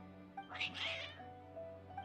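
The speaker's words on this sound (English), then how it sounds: "Your cats seem pretty worked up." Cats meowing in Genshin Impact, a couple of agitated, fairly close meows and yowls over a steady game music hum.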